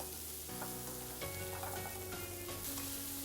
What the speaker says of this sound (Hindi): 2 प्याज जो कि मैंने स्लाइस किया है उसे डाल देंगे।